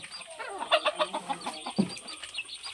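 Backyard chickens clucking at moderate distance, several short scattered calls and soft murmurs overlapping, with one fuller cluck standing out near the middle.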